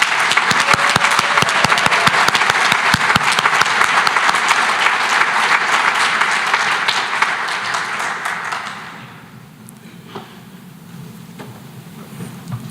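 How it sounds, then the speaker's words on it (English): Loud, dense audience applause fills a hall at a sports awards gala, holding steady for about eight seconds before fading out into quiet room tone. "Another round of applause, please."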